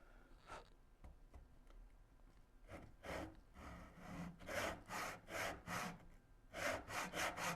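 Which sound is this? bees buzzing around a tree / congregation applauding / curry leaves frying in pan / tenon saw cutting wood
tenon saw cutting wood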